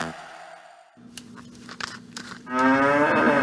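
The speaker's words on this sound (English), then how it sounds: "I can hear it mooing." In a radio advert for a Muller fridge, a cow moos from a kitchen, a low drawn-out call over crinkling and rustling, before a louder blended sound swells in at the end; nobody speaks.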